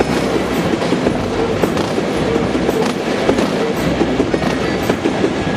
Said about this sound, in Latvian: tūlīt nāks arī viens metro vagoniņš, kuru jūs redzēsiet